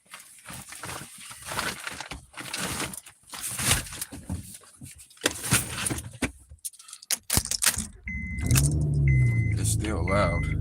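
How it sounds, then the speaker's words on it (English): A car engine running after an oil change that left the oil not fully filled. Handling noise and clatter come first, then a steady loud engine drone with a low tone for the last few seconds. "see how this car sound now."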